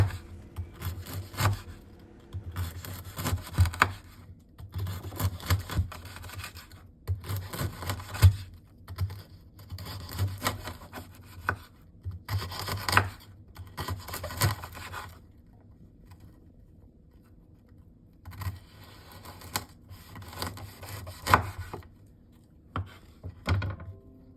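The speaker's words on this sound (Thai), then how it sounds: "หั่นเป็นชิ้น" A knife cuts pork into pieces for Thai crispy pork, giving repeated scraping, sawing strokes in clustered bursts with short pauses, close and moderately loud, with no speech.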